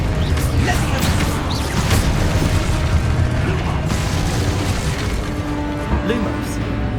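Spell blasts and explosive booms crash through a Hogwarts video game battle, with dense, continuous rumbling, clanking and magical impacts under shouted spell incantations.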